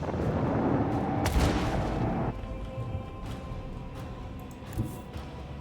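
Torpedo strikes in the Rogue Trader video game land as heavy, rumbling booms, one loud deep impact followed by the barrage dropping to a quieter, lingering rumble with a smaller thud near the end.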